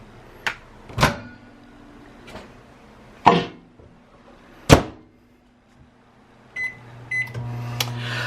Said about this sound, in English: So we're going to go ahead and throw this in the microwave.